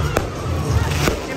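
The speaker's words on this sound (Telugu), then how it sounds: "టపాకాయలు పేల్చుకుంటున్నా." Firecrackers going off at a New Year celebration on a walking street in Pattaya: two sharp bangs about a second apart over a steady background of crowd noise.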